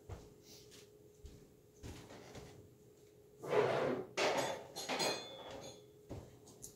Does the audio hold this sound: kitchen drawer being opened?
yes